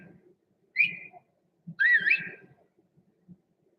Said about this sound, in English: This was the first Splinter Cell game where you could whistle.